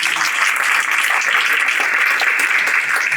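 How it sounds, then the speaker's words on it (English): An audience at the Toronto Economic Forum applauds a conference founder, a thick, even roar of many hands clapping together, loud and continuous for about three seconds. "please let's give him an applause"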